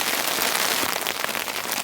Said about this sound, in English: It's like a hailstorm coming in.